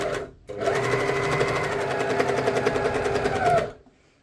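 A sewing machine stitches a shirt, its motor whirring in one continuous, close run of rapid needle strokes that starts and stops abruptly, with no talking.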